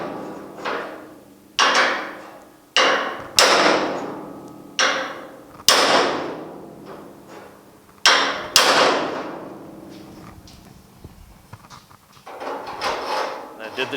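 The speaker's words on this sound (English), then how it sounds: "I'm just going to hit on the socket, but I'm going to pull up on the extension at the same time" A hammer striking a socket to straighten the bent bed of a 1950 Chevy truck, about ten loud sharp metallic blows with ringing decay in an irregular rhythm, then lighter tapping near the end.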